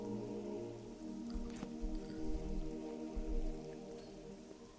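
Rain patters steadily in the video game Oblivion, soft drops falling over a low ambient musical drone, a gentle continuous patter with no speech.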